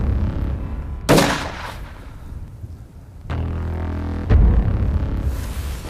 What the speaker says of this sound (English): I'm waiting for the giraffe to stop and offer the perfect shot.